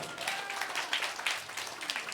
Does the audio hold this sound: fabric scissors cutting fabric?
no